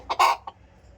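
A rooster kept apart from the hens gives a quick burst of two or three short, close clucks within a second, then falls quiet.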